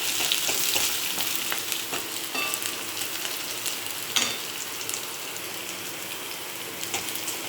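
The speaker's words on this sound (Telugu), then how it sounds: "ఇప్పుడు మనం 1 table spoon of ginger garlic paste వేసి రా స్మెల్ పోయేంత వరకు బాగా ఫ్రై చేసేయండి" Ginger garlic paste sizzles and fries with onions in hot oil for a vegetable kofta gravy, a steady close crackle with occasional stirring clinks, no talking.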